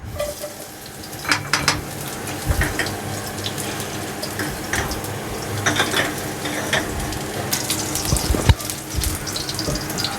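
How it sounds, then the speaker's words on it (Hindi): Three cloves of chopped garlic frying in two tablespoons of olive oil in a pan, with a steady close sizzle and occasional stirring clatter throughout. "अब इसमें शामिल करेंगे 3 जवे लहसुन चॉप किए हुए"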